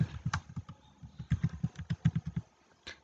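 Quick, uneven keystrokes tap on a computer keyboard while a code is entered into a website, a close, fairly quiet flurry of clicks with a brief pause before a final tap.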